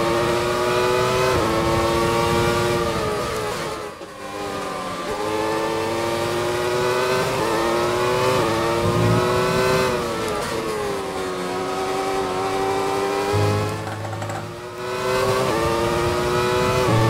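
A 1994 Benetton B194 Formula 1 car in the F1 2020 video game at the Austrian circuit, its engine screaming steadily as it accelerates, with rising revs and brief dips at gear changes. The engine plays alone and close, with no talk.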